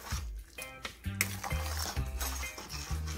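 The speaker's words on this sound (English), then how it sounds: "stir well." A utensil stirs chicken foot soup in a pot, making repeated metallic clinks and scrapes against the sides in an uneven rhythm, close and moderately quiet, with no talking.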